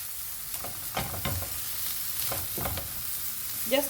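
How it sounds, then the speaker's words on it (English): A spoon stirs a kebab mixture with garlic paste cooking in a pan: repeated soft scraping strokes over a continuous sizzle, close up, with no voices. "Then I continue mixing it"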